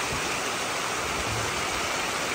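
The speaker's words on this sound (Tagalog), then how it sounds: "Ayan po yung waterfalls." A waterfall near Carnavon Lake, a dense, steady broadband rush of falling water, continuous and fairly faint, with no voices over it.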